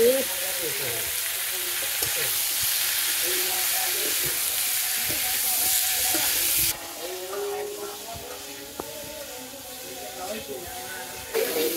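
Turmeric, chilli and salt sauté in a hot pan with a loud, bright, continuous sizzle that drops in level partway through, with occasional stirring scrapes and a voice speaking over it.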